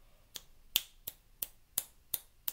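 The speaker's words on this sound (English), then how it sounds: "I can still snap my fingers even with my hands wet." Six crisp finger snaps made with damp hands, spaced roughly evenly apart, sharp and close with quiet gaps between.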